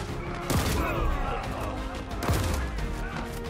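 Gunfire in the video game Paint the Town Red: two sharp, loud shots roughly two seconds apart, heard over a constant busy game soundscape with a voice shouting.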